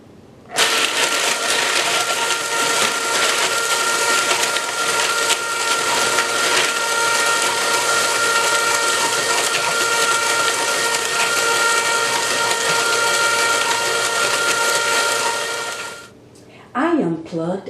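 An electric ice cream maker motor hums and whines loudly and steadily for about fifteen seconds with bright tonal overtones, then stops abruptly; the unit sits in a bucket of ice and salt while coconut ice cream churns.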